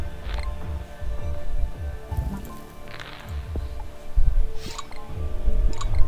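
Bubbles popping up and bursting in the strategy game Plague Inc Evolved, a run of soft, scattered droplet-like pops and clicks over a low rumbling backdrop, with no voices.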